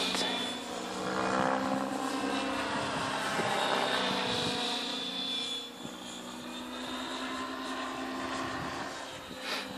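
An Align T-Rex 600E Pro electric RC helicopter flying slowly outdoors gives a steady, moderately loud rotor whine and hum that swells and eases as it moves.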